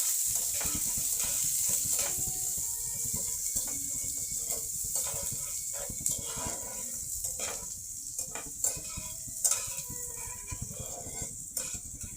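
Onion frying in oil in a hot frying pan, a steady close hiss of sizzling with scattered stirring clicks and light scrapes, no one talking.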